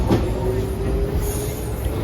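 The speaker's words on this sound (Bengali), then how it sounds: "ওই দেখো ট্রেন আইছে আর একটা" A Docklands Light Railway train pulls into a station with a steady rumble and a long, thin wheel squeal, close by and continuous.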